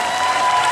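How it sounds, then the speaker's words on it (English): A very short, loud burst of crowd applause and cheering at a live Family Feud-style gaming show at EGLX 2018, dense clapping with a faint high whistle-like tone over it. "And don't forget to give a round of applause for Jesse Cox"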